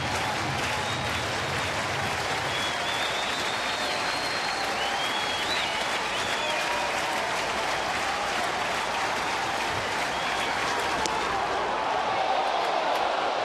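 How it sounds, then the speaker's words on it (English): A baseball stadium crowd in Cincinnati, standing before the final out, cheers and applauds in a sustained, dense roar with whistles and shouts above it, sometimes swelling louder. "Now the crowd once again standing, cheering, anticipating the final strike for the final out of the night."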